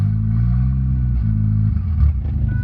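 A Ford Probe engine cranking and catching on a standalone ECU, a loud close low rumble that stumbles unevenly near the end as it struggles to keep running.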